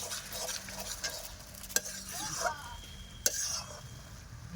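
Mixed greens cooking with prawns and fish head in a hot pan, a spoon scraping and stirring over a soft sizzle, with a few sharp clacks and a faint throat-clearing sound.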